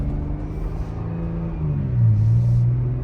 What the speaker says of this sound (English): We are just full sliding in the ice.